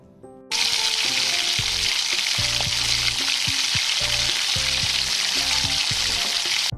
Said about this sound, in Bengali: চিকেনগুলো এর মধ্যে দিয়ে ভালো করে ওপর নিচ করে ভালো করে মিশিয়ে নিতে হবে।